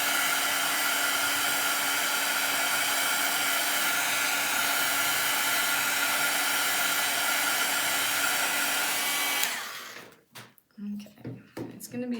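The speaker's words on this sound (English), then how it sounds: "Use a hairdryer too if you wanted." A hairdryer blows steadily and loudly for about nine seconds, setting a bracelet kit piece, then cuts off abruptly, leaving brief quiet handling noises.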